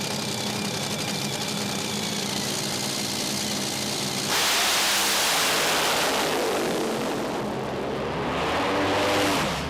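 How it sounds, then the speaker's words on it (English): A nitro Funny Car pair launches at an IHRA drag race, one car dropping cylinders in the far lane; a loud roaring engine blast swells and holds, then fades into a sweeping howl down the track. "Mitch King dropping cylinders right off the bat in the far lane"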